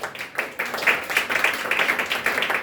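Church congregation clapping to acclaim the Lord, a brief burst of many hands clapping in a fairly dense, uneven patter with no voices over it.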